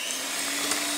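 An electric mixer whirs steadily as it beats eggs and sugar for a genoise cake batter, a loud, even motor whine with no pauses and no talking.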